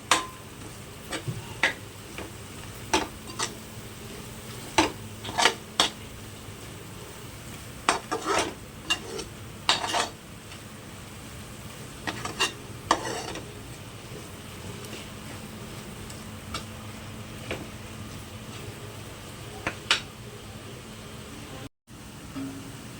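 Home-made masala mix being stirred in a cooking pot for an Agri-Koli wedding-style mutton curry, with scattered scraping clinks and short stirring strokes over a steady low sizzle, close and fairly loud, no talking.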